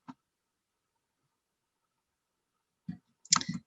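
A computer mouse clicks several times in a quiet room, with a faint single click first and then a quick, crisp double click near the end.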